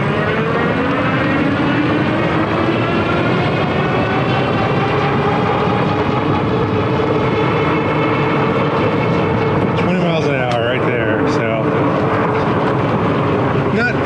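A Meebike Gallop electric bike pulls away from a standstill to top speed, a rising motor whine building over steady rushing wind noise, with a brief rattling, fluttering burst near the end.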